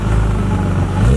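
A Nissan 350Z with a new exhaust holds a loud, close, droning engine rev for a brief moment, with a steady low rumbling tone.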